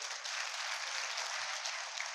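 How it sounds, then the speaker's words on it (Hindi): Audience applause at a motivational seminar in Wankaner, a steady wash of clapping lasting a couple of seconds with no voices over it. "ताली बजाओ"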